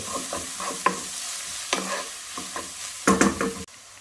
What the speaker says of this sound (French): Allez, on fait revenir quelques minutes.